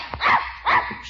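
A dog in a home barks twice in quick succession, sharp and close, with no talk over it, as heard in an old-time radio comedy scene.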